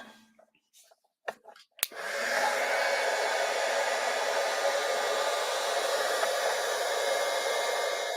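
Heat gun warming up in a craft room: a few clicks and knocks, then a sharp snap as it switches on, followed by a loud, steady blowing hiss that holds without a break.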